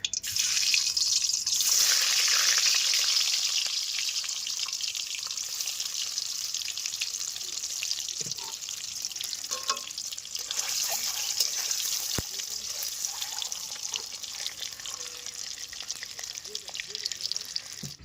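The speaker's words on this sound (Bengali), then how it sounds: "এবার সিদ্ধ ডিমগুলো লাল লাল করে ভেজে নেবো।" Boiled eggs fry in hot oil for an Afghani egg curry in a village kitchen, giving a steady, close sizzle with crackling spits and occasional soft utensil taps throughout.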